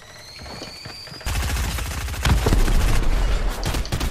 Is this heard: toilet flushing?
no